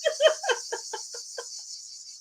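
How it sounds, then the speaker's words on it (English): Outdoor insects and birds: a steady high insect buzz runs throughout while a bird gives a quick descending series of about eight chirps that fade out. "I like the sound of the birds and the insects and that."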